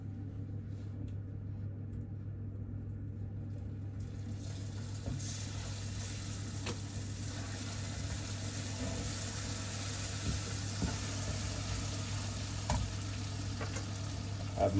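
Butter dropped into melting sugar in a pan for apple tatin, a steady close sizzle and bubbling hiss that brightens and grows louder partway through, under a low constant kitchen hum.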